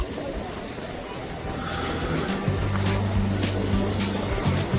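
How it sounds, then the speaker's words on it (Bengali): Howrah to Digha local train rolling steadily along the rails, a continuous close rumble with faint wheel squeal and low rhythmic clatter, no talk. "ওই আলাদা লাইনেই কিন্তু আমাদের ট্রেন আবার ঢুকে যাবে।"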